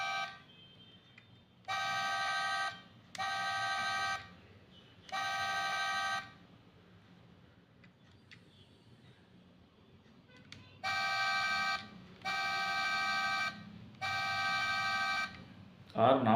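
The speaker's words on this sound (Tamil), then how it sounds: "அடுத்தது ஹார்ன் அடிக்கும்" Horn of a toy Rolls-Royce diecast car sounds in seven evenly spaced electronic honks, three, a pause, then three more and a final short burst, loud and clear over faint background hiss.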